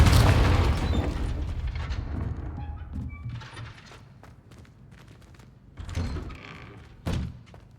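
The Confringo spell in Hogwarts Legacy gives a loud, booming blast at the start that fades into a rumbling decay. Quieter thuds and impacts follow later.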